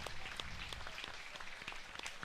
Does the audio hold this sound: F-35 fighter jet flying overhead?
no